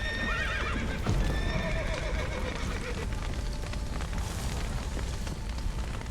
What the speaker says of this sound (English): Horses, gotta let them out.